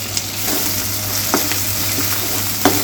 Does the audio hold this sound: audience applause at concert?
no